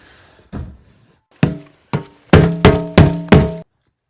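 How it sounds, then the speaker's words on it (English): Several hollow knocking thuds from a head bumping hard against something while working at the back of a retro nitro RC10GT model truck, irregular at first then a quick run of four strong knocks, close and loud, with no talking. "That was me hitting my head."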